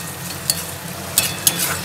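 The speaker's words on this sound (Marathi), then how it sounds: "हे असं चांगलं भाजून घ्यायचं आहे" Shepu bhaji (dill greens) roasts in a pan under a steady low sizzle, punctuated by three or four quick scraping clicks of a spoon stirring against the metal; no speech.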